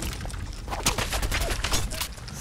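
Gunfire in the video game Fallout 4 crackles in a quick burst of several sharp shots over a busy, noisy game background.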